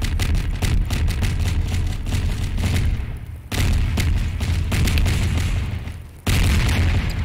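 Bombs go off in rapid succession in a video game, a dense barrage of booming blasts broken by two brief gaps before the explosions resume.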